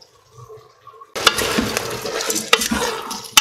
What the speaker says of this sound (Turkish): Hepsini karıştırıyorum.